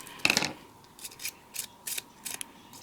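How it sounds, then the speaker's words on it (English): Scissors snipping a rolled paper strip for a slimline friendship card, one louder cut followed by four short quieter snips, close and faint, no voices. "I'm just gonna cut that for now."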